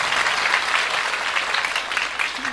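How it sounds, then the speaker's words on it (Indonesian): A crowd at a religious lecture gathering bursts into dense, steady applause, close and loud throughout the short burst. "Tepuk tangan untuk beliau."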